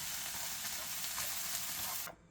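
Rice cakes stir-frying in a pan with a spooned-in sauce: a steady, dense sizzle and hiss, fairly quiet and close, that cuts off abruptly near the end.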